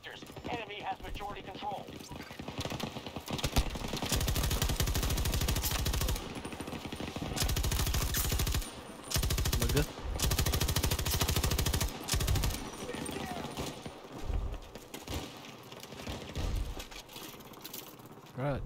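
Rapid submachine gun fire in a World War II shooter game, bursts of repeated shots coming in long stretches with gaps between them, over continuous game noise, with players talking throughout.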